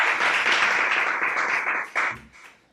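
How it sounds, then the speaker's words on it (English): Short burst of audience applause at a digital awards ceremony, moderately loud clapping that stays even and then tapers off over a couple of seconds. "Let's have another round of applause."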